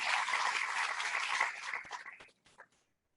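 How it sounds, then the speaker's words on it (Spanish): A short burst of welcoming applause from an audience at a teachers' panel discussion, dense clapping that thins out and fades into a few scattered final claps before silence. "Le damos un aplauso de bienvenida."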